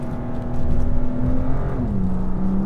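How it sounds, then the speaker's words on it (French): A BMW M2 Competition's twin-turbo engine and exhaust pull up through the revs, a loud close drone that rises in pitch, then a gear change drops it before it climbs again. "Lorsque l'on accélère, on entend les turbos qui se chargent et qui se déchargent."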